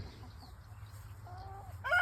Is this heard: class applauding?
no